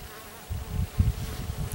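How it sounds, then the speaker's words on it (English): Bees buzz outdoors near oak trees, a low droning hum that comes in pulses as insects fly close by, fairly faint and without speech. "there's a lot of bees around here"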